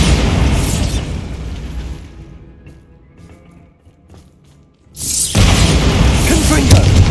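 Bombarda and Confringo spell explosions in the Hogwarts Legacy video game, a loud roaring blast that fades into a quiet lull, then a second heavy burst of booming, crackling noise near the end.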